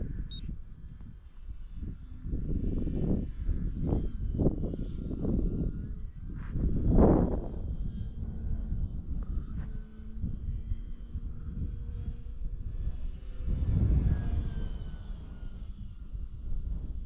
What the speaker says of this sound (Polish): Zresztą patrzcie, co ten samolot potrafi.